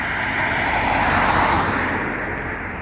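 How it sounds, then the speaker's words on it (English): An airplane flies overhead above a street in Lachine, a broad, steady engine roar with a whining edge that swells and slowly fades, heard alone. "There's a plane up there."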